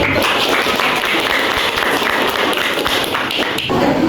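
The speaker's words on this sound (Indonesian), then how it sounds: "Beri tepuk tangan untuk" Classroom applause for a student group presentation, dense, continuous clapping from many hands, loud and close throughout with no talk.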